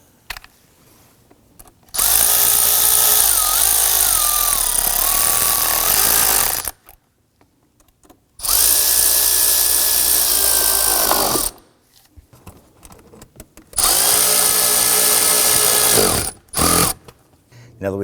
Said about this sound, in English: let's go ahead and tighten down the 3 clamps